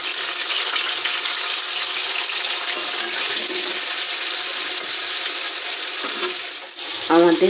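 Cauliflower frying in a pan of oil for vegetarian fried rice, a steady close, dense sizzle throughout, with a short clink of a utensil near the end.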